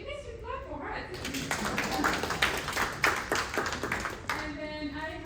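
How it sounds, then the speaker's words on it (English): An audience at a panel discussion claps for a moderator in a dense burst of hand claps lasting several seconds, with a speaker's voice just before and after. "you guys should clap for her."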